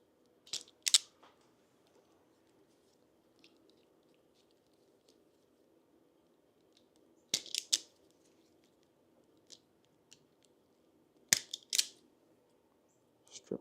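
Electrical wires snipped with cutters, several sharp crisp clicks spaced seconds apart, close and clear against a quiet background.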